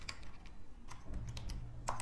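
Someone types a search on a computer keyboard, producing a quick, irregular run of close, crisp key clicks with no talking.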